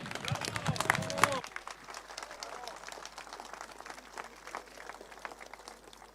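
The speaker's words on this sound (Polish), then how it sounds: "wielkie brawa" Crowd at an outdoor rally breaks into sustained applause after a speaker is introduced over a loudspeaker, the distant clapping continuing steadily once the amplified voice cuts off.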